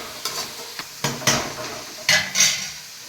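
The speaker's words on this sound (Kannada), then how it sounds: "ನಮಗೆ ಕಚ್ಚಲಿಕ್ಕೆ ಸ್ವಲ್ಪ ಜಾಸ್ತಿ ಬೇಕಾಗುವುದರಿಂದ ಫ್ರೈ ಮಾಡಬೇಕು." Chicken fries in a pan for chilli chicken, with chopped tomato added, and is stirred with a utensil, giving several close scraping clatters over a low sizzle.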